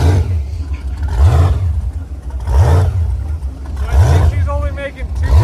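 A supercharged jet boat engine with 11.5 to 1 compression revs in repeated surges, roughly every one and a half seconds, loud and close, with a voice in the background near the end.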